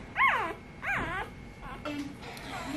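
Goldendoodle puppies whimper and yip in a few short, high, wavering cries close by, with quieter squeaks trailing off between them.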